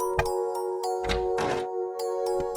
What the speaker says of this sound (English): She knocked on the door because she was tired and wanted to rest a little.